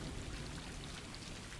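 Rain falls steadily in the video game Stray, a faint, even hiss of raindrops on surfaces with a low rumbling undertone, continuous and without talk.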